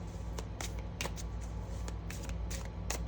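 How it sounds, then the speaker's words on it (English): A Silly Goose tarot deck being shuffled by hand, giving a steady run of soft papery riffles and card flicks, close and fairly quiet with no talk. "Let's give this a good shuffle since it wasn't shuffled."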